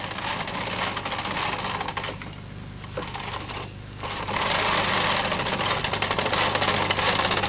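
Bond Incredible Sweater Machine carriage pushed across the needle bed to knit rows, a steady loud mechanical clatter and whir that dips briefly between passes before resuming.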